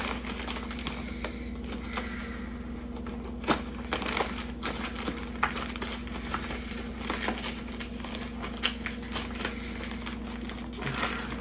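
Plastic mailer package, a reused Amazon bag sealed with extra tape, handled and torn open: steady close crinkling and rustling with a few sharper rips and crunches, no talking.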